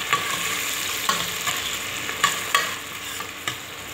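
Onions sizzle in hot oil with whole spices, a steady crackling fry broken by several soft scraping stirs of a spoon in the pan.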